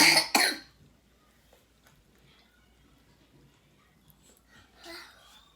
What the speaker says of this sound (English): That was rude of you to be coughing like that.